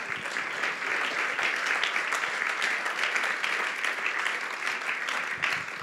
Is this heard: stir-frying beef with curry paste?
no